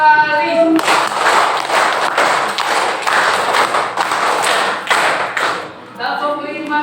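A group seated in a training session claps a rhythmic call-and-response pattern, loud close bursts of hand claps for about five seconds, with a voice speaking just before and after.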